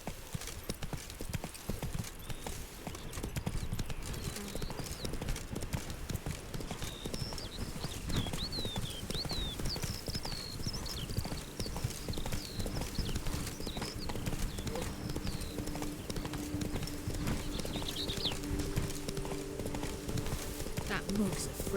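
Horse hooves clip-clop steadily at a walk in The Witcher 3, the mount trotting up close with a brief whinny, while someone talks over the hoofbeats throughout.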